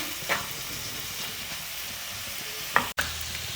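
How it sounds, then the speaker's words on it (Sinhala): Onions and curry leaves stirred in a frying pan for egg curry, a steady soft sizzle with faint scraping, a couple of sharper utensil scrapes and a brief knock near the end, no voices. "අපි මේ වෙලාවේ කරපිංච ටිකත් එකතු කරගමු. දැන් ආපහු හොඳට කලවම් කරගමු."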